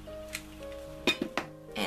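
A glass set down for a unicorn paper centerpiece gives a few light clinks and taps on a hard surface, quiet and close, with a faint tone in the background.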